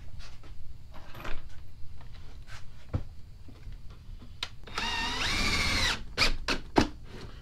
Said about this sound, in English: But after that, I'm going to take my drill.